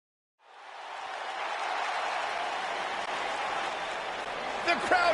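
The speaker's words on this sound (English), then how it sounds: "The crowd is buzzing with excitement." A crowd in the WWE 2K19 wrestling video game, at a singles match, cheers as a dense, steady roar. It swells in quickly from silence and holds loud throughout, with a brief voice rising near the end.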